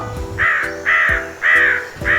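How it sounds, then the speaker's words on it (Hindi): Crows caw from a tree in a jungle beside a pond: four evenly spaced, harsh calls in a steady rhythm, clear and close over a soft musical background. "जंगल पहुंचने पर एक कौवा कौवी की जोड़ी एक पेड़ पर रुके और वहीं अपना घर बसा लिया।"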